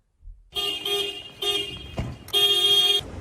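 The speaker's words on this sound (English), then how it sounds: "she just wouldn't stop honking" A car horn blares in repeated long honks, the first few short and spaced, then a longer sustained blast, loud and close with no talking.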